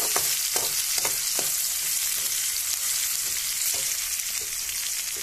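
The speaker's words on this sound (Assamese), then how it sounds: "জলকীয়াখিনিৰ লগত অলপ ভাজি ল'লোঁ।" Chillies frying in a hot pan, a loud continuous sizzle broken by several sharp scrapes and clicks of a spatula stirring, close up with no voices.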